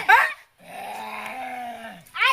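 A dog's drawn-out, low growling whine lasting over a second, close by, bracketed by people talking before and after.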